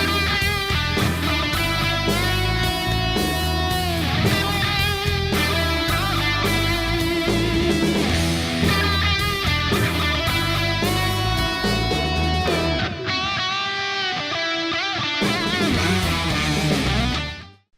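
An electric guitar in standard tuning plays the first-verse vocal melody of a song, dense and continuous with bends and sustained notes, loud and close, cutting out briefly near the end.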